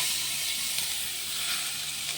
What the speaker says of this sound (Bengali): এই পেঁয়াজটা দিয়ে এটাও লাল লাল করে একটু ভেজে নেব